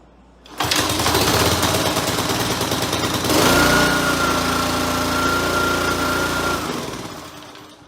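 A small water pump engine, just refitted with a cleaned carburetor, starts abruptly and runs loud and close for several seconds at a steady high-revving buzz, then winds down.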